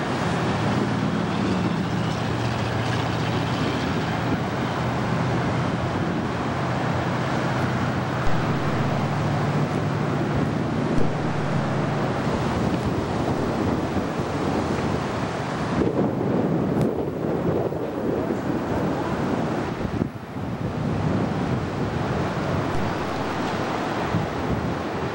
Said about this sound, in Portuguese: O ventinho aí. O ventinho tá forte.